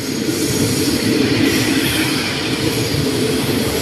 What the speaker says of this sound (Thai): ไปแล้วนะครับสำหรับขบวนรถด่วน 83 นะฮะ